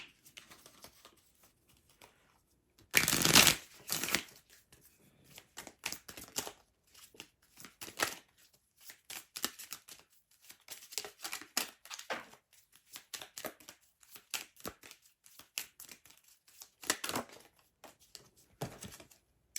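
Angel oracle cards being shuffled for a tarot-style reading, heard as quiet, close bursts of papery riffling and flicking at an irregular pace, with one louder shuffle early on.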